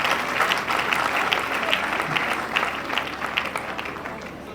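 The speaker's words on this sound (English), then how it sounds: "Let's clap up for her again." An audience at a university inaugural lecture claps steadily for a few seconds, a dense, even applause that tapers slightly toward the end.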